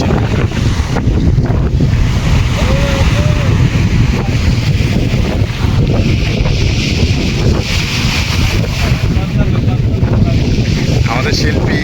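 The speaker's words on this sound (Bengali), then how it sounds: "এই হচ্ছে পুরো সমুদ্র" Steady roar of surf and heavy wind buffeting the microphone, continuous and loud throughout with no clear breaks.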